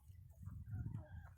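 Hens clucking low and soft while feeding on fodder, with low murmuring clucks and a few brief higher calls, faint and close.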